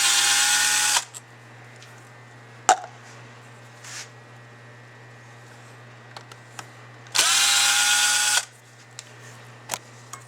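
A power driver spins out a screw on a Carter carburetor, in two loud whirring bursts of about a second each, with small clicks and taps of handling between them and no talk.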